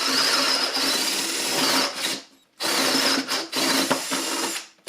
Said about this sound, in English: I did a stress test on it using the 16mm wood drill bit